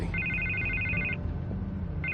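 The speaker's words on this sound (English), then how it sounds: "I can't get the phone to stop ringing." A telephone rings in the video game Batman: The Telltale Series, sounding as a loud electronic trill that runs for about a second, pauses, then starts again, with low game ambience underneath.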